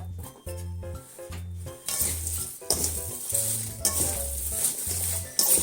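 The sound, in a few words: kneading spring cabbage with salt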